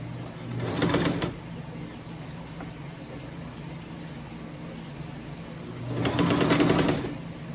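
A sewing machine runs in two short bursts after its bobbin has been rethreaded, each a close, steady mechanical whir of rapid stitching, with quieter room noise between them and no talk.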